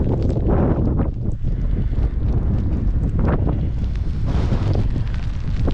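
Strong wind gusts roar and buffet the microphone across an open pasture where cattle graze in November, a loud continuous rumble with no voices.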